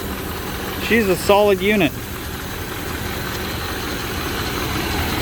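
A 1983 Monte Carlo engine idles steadily up close, a continuous low rumble that carries on alone after someone speaks briefly over it at the start.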